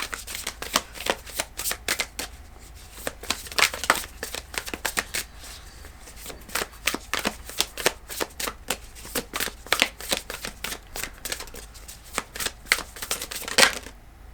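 Decoded tarot deck being shuffled by hand, close and steady riffling with dense rapid card flicks and brief pauses throughout, no voices.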